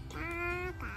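A person imitates a chicken with a nasal, honking quack-like call, one sustained tonal squawk followed by a shorter rising note, close and fairly loud.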